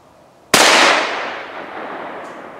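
A single sharp rifle shot, fired at a hog during a night predator hunt, cracks loud and close and then trails off into a long rolling echo.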